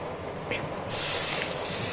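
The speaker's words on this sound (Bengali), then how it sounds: "এতে এবার পরিমাণ মতো জল দিয়ে দিলাম" Water poured into a hot pan of simmering amra chutney, a sudden loud hiss and spray of steam that bursts in partway through and holds steady to the end, following a quieter bubbling start.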